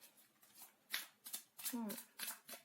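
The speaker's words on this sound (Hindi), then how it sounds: "एक्चुअली कार्ड्स बहुत ही बड़े हैं तो उनको थोड़ा शफल करने में प्रॉब्लम होती है।" Large tarot cards shuffled by hand in several quick papery bursts, close and fairly soft, with a brief voice heard among them.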